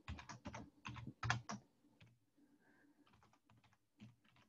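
Rapid clattering keystrokes on a computer keyboard in quick bursts, pausing briefly before lighter, scattered taps resume.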